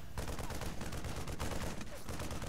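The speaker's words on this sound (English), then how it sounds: "Finally getting the Marine out to take care of this assimilator. 3 bullets at a time." StarCraft Marine firing its gun in a Protoss versus Terran game, a dense, continuous rattle of rapid gunfire bursts running steadily throughout at close range.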